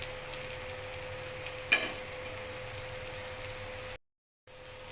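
Egg omelette sizzling in a pan, a steady soft crackle with a brief louder flare as it is turned, then a short silent gap before the quiet frying resumes.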